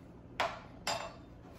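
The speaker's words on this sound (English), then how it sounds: "put that ice cube down in it like that." A solid ice cube drops into a glass of low-calorie summer drink, giving two quick faint clinks close by against a quiet background.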